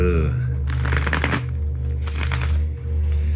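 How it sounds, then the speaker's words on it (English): A deck of tarot cards is shuffled in two riffling bursts, crisp and close, over a steady low hum. "These feel decently shuffled"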